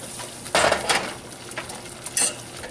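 A flour roux cooks in a pan for cheese sauce, with a low sizzle under a few scraping stirs and light utensil knocks against the pan.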